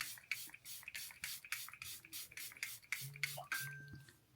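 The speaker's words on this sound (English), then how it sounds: "And I'll spray the whole face" Setting spray misted over a face after powder makeup, heard as a fast series of about a dozen soft, even hissing spritzes close up, alone with no talking.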